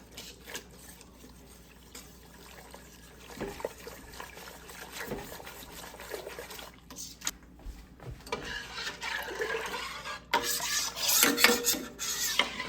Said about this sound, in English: For now, I'm just going to try to whisk it.